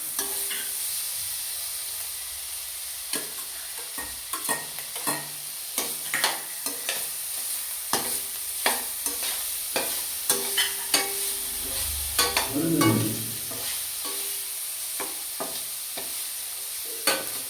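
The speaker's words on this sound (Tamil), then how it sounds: "கொடை மிளகாய் போட்டு நல்லா ஃப்ரை பண்ணிடலாம்" Capsicum frying in a pan for pasta, a low steady sizzle broken by repeated sharp clicks and scrapes of a spoon stirring against the pan, with a busier clatter of stirring near the end.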